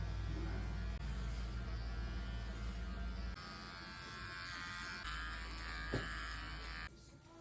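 Electric hair clippers cutting a low taper fade buzz steadily with a low hum throughout, shifting in tone as they move across the head, close and continuous.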